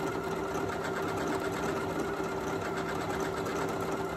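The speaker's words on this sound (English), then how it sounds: "And we're going to do a decorative stitch." A Janome Memory Craft MC9450 sewing machine stitches a decorative pattern, a steady, fast, close mechanical whir with even rhythm and no pauses or voices.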